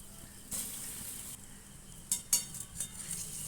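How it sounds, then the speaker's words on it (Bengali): Lentil fritters (bora) frying in hot oil, a steady soft sizzle running throughout with a few brighter crackles and spatters near the end, close by and without speech. "বড়ার আকারে ভেজে নেব"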